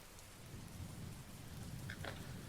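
Steady rain pours on surfaces during a night storm, a dense hiss over low rolling thunder, with a few sharper drips or splashes near the end; soft and ambient, no voices.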